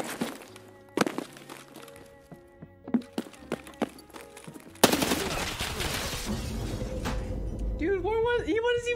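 Gunfire in the shooter game Escape from Tarkov, starting as scattered sharp shots and thuds over footsteps, then turning into a dense, sustained loud burst of fire. A voice talks over part of it.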